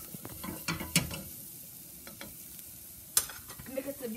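Onion softening in a little oil in a pan for an Alfredo-style shrimp sauce, with a soft steady sizzle broken by a few sharp stirring clinks and scrapes, close and fairly quiet.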